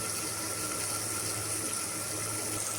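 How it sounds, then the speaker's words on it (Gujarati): Water pours steadily into a cooking pot holding a vegetable dish of valor beans and tomato, making a continuous close gushing rush with no pause. "પછી આપણે તેમાં થોડું એવું પાણી નાખીશું."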